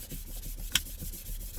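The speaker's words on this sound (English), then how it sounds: "Doesn't seem to be sanding anything off at all, but sort of flattening it out." 800-grit sandpaper rubs back and forth over a black leather BMW steering wheel, soft rhythmic scratchy strokes close up with one brief sharper scrape partway through.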